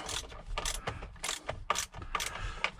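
A ratchet clicks in quick repeated bursts while tightening the bolts on a Jeep Wrangler JKU clock spring, close up with short pauses and no talk.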